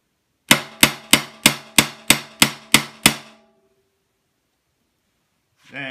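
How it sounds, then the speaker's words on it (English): Nine quick, ringing hammer strikes on a center punch against a steel takedown pin of a Vepr 12 shotgun, in a fast even rhythm, close and loud, followed by silence and a short voice at the end. "center punch that pin."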